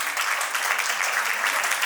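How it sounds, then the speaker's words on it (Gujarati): Audience clapping at a baby shower dance celebration, a steady dense wash of many hands applauding together throughout, fairly close and even with no pauses. "તો મને એક વખત કહો કે તમે કેવી તાળી વગાડી શકો છો?"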